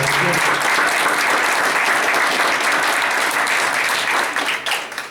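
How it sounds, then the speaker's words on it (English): An audience at a board of education meeting gives first-grade students a loud, sustained round of applause that thins out toward the end. "let's do one more round of applause for them"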